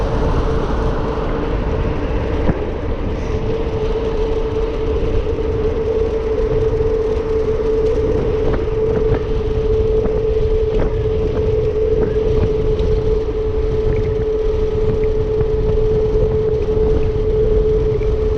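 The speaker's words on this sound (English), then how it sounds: "So I'm basically riding this thing like my Super 73." ONYX RCR electric motorcycle riding off-road, a loud continuous motor whine with steady wind and tire rumble throughout, close and unbroken, with no talking.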